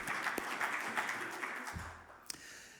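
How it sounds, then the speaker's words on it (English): Applause from a plenary-session audience for an award winner, a moderate wash of clapping that fades out after a couple of seconds, with a few sharper taps standing out. "a round of applause"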